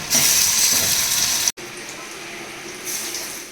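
Flattened large pieces hiss and sizzle steadily in hot oil in a karahi wok, a close, broad crackling that cuts out briefly before resuming.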